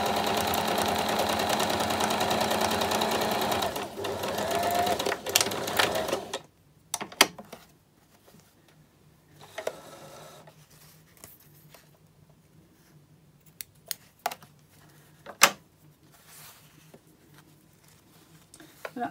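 A sewing machine stitches along a seam allowance, running loud and steady for several seconds, then falls quiet with only scattered clicks, taps and faint handling sounds.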